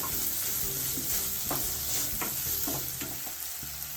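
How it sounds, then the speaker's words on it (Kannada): Chopped tomato cooks in a pan for puffed rice upma, frying with a steady sizzle while a spoon scrapes and stirs in several distinct strokes, close and clear. "ಈಗ ಹೆಚ್ಕೊಂಡಿರೋ ಟೊಮೆಟೊ ಹಾಕ್ತಾಯಿದ್ದೀನಿ. ಟೊಮೆಟೊ ಸ್ವಲ್ಪ ಬೇಯಬೇಕು."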